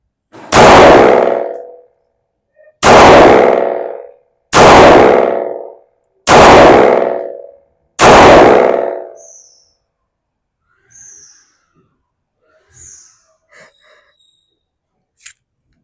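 A Kral Arms KR9 airsoft gun fires five loud, sharp shots at even intervals of about two seconds, each ringing briefly, followed by a few faint clicks and handling noises.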